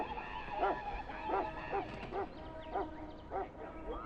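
A dog barking repeatedly in Dragon Age: Origins, a steady series of evenly spaced, moderately distant barks over a quiet background.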